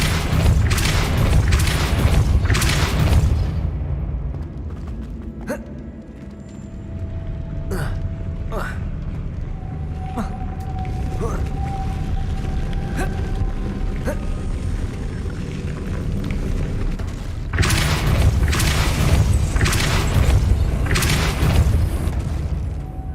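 A Depulso spell blast in Hogwarts Legacy opens with a heavy booming burst, followed by sharp mechanical clicks and a later rumbling surge, with game effects layered throughout.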